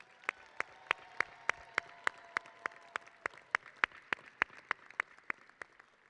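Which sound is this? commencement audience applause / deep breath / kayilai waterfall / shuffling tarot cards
commencement audience applause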